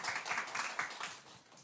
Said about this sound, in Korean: 박수 한번 좀 드리도록 해요.